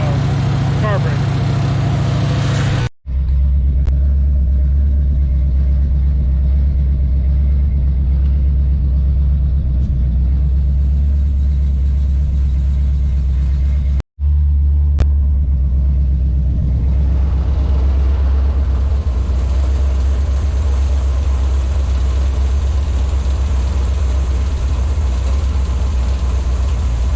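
A carbureted engine with a Rochester Quadrajet idles steadily and loudly close by as it is tuned with the choke open, a deep continuous rumble interrupted by two brief cutouts, with the tone shifting slightly later on.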